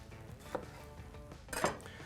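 Utensil clinks and scraping in a bowl as peanut sauce of peanut butter, soy sauce, coconut milk, chopped peanuts, sriracha, sesame oil and lime juice is mixed, with a louder clatter near the end and no talk.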